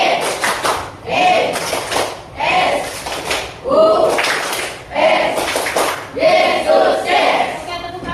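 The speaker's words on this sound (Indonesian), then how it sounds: "Oke, tepuk tangan dulu" A classroom of students in a Christian religious education lesson claps their hands in several rhythmic bursts, loud and close, separated by short pauses.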